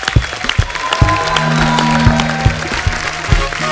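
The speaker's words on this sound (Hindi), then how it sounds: "जोरदार तालियां होनी चाहिए।" Studio audience applause on a comedy talk show, bursts of clapping mixed with a steady tonal hum and crowd noise.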